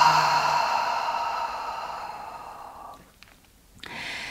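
A long, slow exhale during a yoga practice, a soft breathy rush close to the microphone that fades over a few seconds, followed by a short pause and a faint renewed breath.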